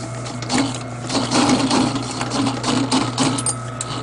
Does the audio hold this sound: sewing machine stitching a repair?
yes